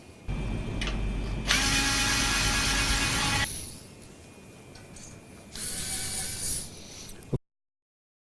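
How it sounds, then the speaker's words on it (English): Screws being worked out of a panel on a Bezzera wood-trimmed espresso machine with a flat-head screwdriver, heard as close, steady ratcheting and scraping clicks in two bursts, then cutting off abruptly. "So you like to remove the screw."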